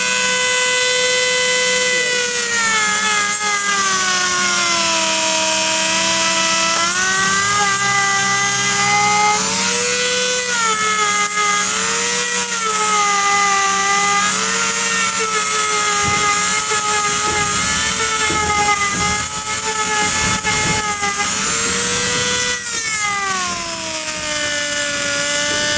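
An electric sander works over a rustic wooden flag with a loud, continuous motor whine whose pitch wavers up and down throughout, with no talking over it.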